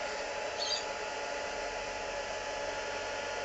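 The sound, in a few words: heat tool drying paint on an ornament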